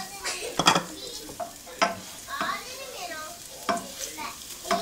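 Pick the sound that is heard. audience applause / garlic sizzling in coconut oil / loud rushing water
garlic sizzling in coconut oil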